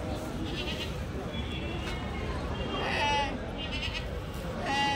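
Goats bleat in a dusty outdoor goat market, several short calls standing out near and at middle distance over a steady murmur of crowd chatter and voices.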